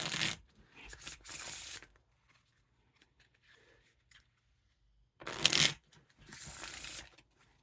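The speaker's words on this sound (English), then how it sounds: "Now for the Riffle Shuffle or Bridge Shuffle." Queen Bee playing cards riffle-shuffled in two quick bursts, each a dense, crisp flutter of about a second, separated by a few seconds of near silence with light handling rustles; close and fairly loud, no talking.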